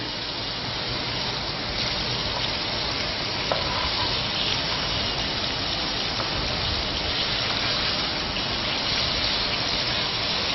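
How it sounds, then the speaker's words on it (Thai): Fish pieces fry in hot oil with a dense, even sizzling hiss that stays loud and constant throughout, close up, with a few faint clinks. "แต่เนื้อปลานี่เราไม่ได้ทอดจนกรอบนะคะทอดพอให้มัน เหลืองเหลืองเหลืองนิดหน่อยนะคะ"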